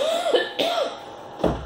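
Two or three short, close coughs from a lecturer who caught a cough after getting wet, with brief pauses between them and no talk.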